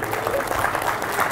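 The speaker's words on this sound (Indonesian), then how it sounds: "Saya tahu jamaah tepuk tangan biar sedihnya hilang." Congregation at an Islamic study gathering in Pamekasan, Madura, applauding in a steady, dense wash of clapping that fills the whole short stretch at moderate loudness, with a hint of voices mixed in.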